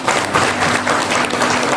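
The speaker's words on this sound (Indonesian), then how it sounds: "Tepuk tangan untuk PT BES, tepuk tangan untuk BES." A crowd at a corporate motivational seminar claps in dense, continuous applause, loud and close, with no pause across the short stretch.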